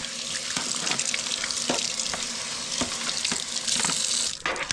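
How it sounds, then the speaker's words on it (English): Warm tap water runs steadily into a sink with clattering splashes as a greasy oven range hood filter is rinsed under the stream, cutting off near the end. "just rinse it off with now warm water"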